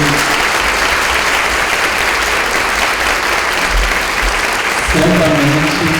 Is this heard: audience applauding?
yes